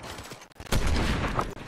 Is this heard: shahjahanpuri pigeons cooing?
no